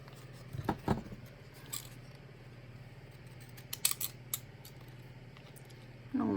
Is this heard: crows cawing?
no